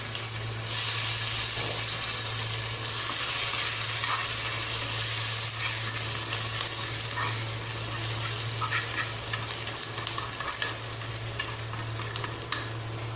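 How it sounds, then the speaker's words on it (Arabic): Garlic sizzling in a hot pan with a steady, continuous frying hiss, broken by light stirring scrapes and small clicks, close and without talk. "دلوقتي بقى كده هنسيب الثوم يحمر معانا"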